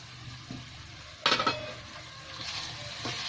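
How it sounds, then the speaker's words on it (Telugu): Spice powders stirred into mutton in a pan, with a sharp scrape and clatter of a spoon against metal, then softer rustling stirring under a faint sizzle and no talk. "దీన్ని బాగా కలుపుకోవాలండి మసాలాలని."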